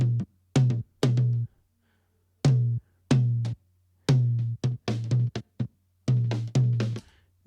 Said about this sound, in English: So this is the sound of the toms, or this particular tom here without any EQ.